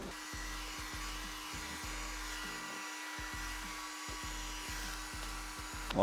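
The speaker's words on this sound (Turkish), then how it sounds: "Bu robot süpürgede şunu fark ettim. Hem dikey geçiyor hem yatay olarak geçiyor." A Robotuya RoboLaser robot vacuum cleaner runs with a steady whirring motor hum in an office, punctuated by regular soft clicks and bumps as it moves, at moderate distance and fairly quiet.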